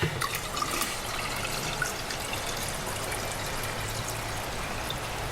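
Water pours steadily into a container, a continuous splashing gush heard up close with no talking.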